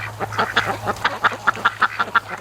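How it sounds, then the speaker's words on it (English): Muscovy ducks give a rapid series of about a dozen short, raspy quacks in a quick, uneven rhythm, close and fairly loud over a low steady hum. "I wonder how many Muscovies tonight are gonna go down to the lake."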